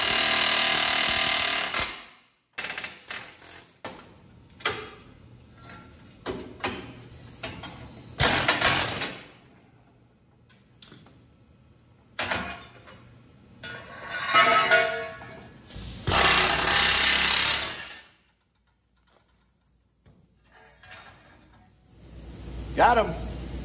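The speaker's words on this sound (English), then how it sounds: "We'll take this air hammer and see if we can zip those out." A pneumatic air hammer knocks out factory rivets on the braces of a squarebody truck, sounding in a few loud, harsh bursts separated by pauses, with someone talking in between.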